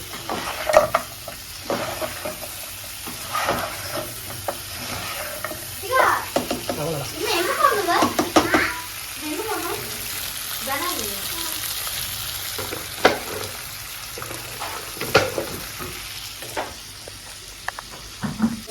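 Crab masala fries and sizzles in a pan while being stirred, with scraping spoon strokes and crackling bursts scattered over a steady hiss, and a voice speaking at times in between.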